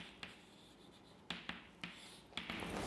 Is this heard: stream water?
no